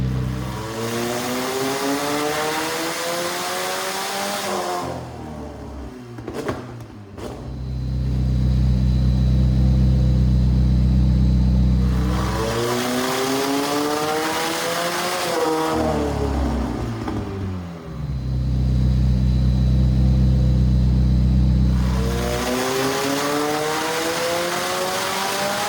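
A Koenigsegg Jesko fitted with a Senna intake manifold and upgraded fuel rails, running on methanol in a Dubai workshop, revs hard in three long loud bursts, each climbing in pitch, with rumbling idle between them.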